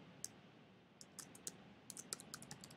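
Quiet, irregular clicks of typing on a computer keyboard, a few scattered keystrokes at first, then quicker bursts toward the end, close up against a faint room hiss.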